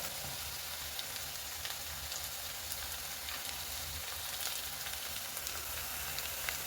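Chopped small onions and large green chillies fry in a pan for a Kerala-style boat curry. Soft, continuous sizzling and crackling with faint scattered pops, quiet and even throughout, no voice.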